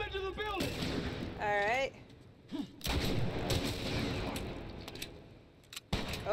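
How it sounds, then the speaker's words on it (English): Gunfire from a fight with bandits in The Last of Us: several sharp, loud shots ring out between stretches of in-game voices shouting, with someone briefly speaking too. "I guess it's time to shoot some people."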